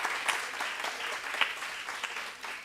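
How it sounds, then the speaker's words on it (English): Sustained applause from a conference audience at a women's leadership event, steady dense clapping with a few sharper peaks, no speech over it. "so you want to give Enactus a round of applause,"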